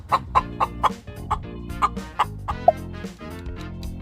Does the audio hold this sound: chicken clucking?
yes